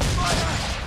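A burst of swivel guns firing from a ship during a naval battle in Assassin's Creed III, one loud, close, booming blast lasting the whole moment, with a voice partly mixed in.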